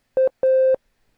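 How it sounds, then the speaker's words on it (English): A sine-wave lead patch from the Pulverisateur synth in Audio Tool, using one oscillator, plays two clean electronic tones: a short beep and then a longer held note, each with a soft attack. "Notice that it's just got a sine wave and one oscillator"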